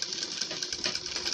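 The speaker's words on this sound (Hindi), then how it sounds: "किनारे पर हम इस तरह से आखिर तक पूरे पट्टी पर इसमें सिलाई लगा देंगे।" A sewing machine runs a quick, steady stream of stitches along a blouse neck strip, its rapid mechanical ticking even and close by with no talking.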